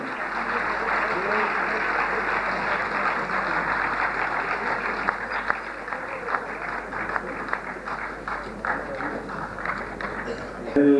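An audience claps hard at an Indian Air Force 70th anniversary celebration, a dense, continuous roar of applause that holds steady for about eleven seconds with sharper individual claps near the end.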